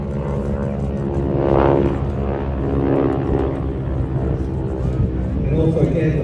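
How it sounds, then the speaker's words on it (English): A propeller aircraft at an air show, its prop tips reaching supersonic speed, gives a loud, sustained droning buzz that swells and fades as it passes, with a rasping edge over the steady engine tone. "the noise you're going to hear is the tips of the propellers reach supersonic speed"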